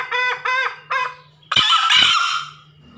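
A rooster calls close by, giving a few short rising calls followed by one louder, harsh, drawn-out crow that fades away.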